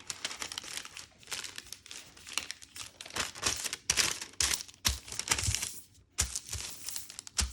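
Paper being folded to line a wooden soap mold gives bursts of close, crisp crinkling and rustling, starting and stopping in short irregular rushes.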